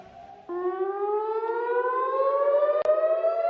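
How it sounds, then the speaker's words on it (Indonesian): A loud civil defense siren in Tel Aviv wails steadily during an Iranian missile attack, its pitch slowly climbing over a few seconds, with a sharp click partway through. "sirene di kota Tel Aviv kembali berbunyi"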